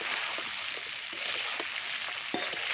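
Fried onions and whole garam masala sizzling with mutton in a pan, a steady, close hiss of frying with faint scattered pops and light stirring scrapes, continuous and alone.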